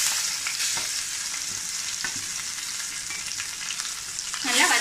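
Grated raw mango being sautéed in a pan over medium flame makes a continuous loud sizzle and hiss with a few soft scraping stirs, then rises into a stronger splutter at the very end.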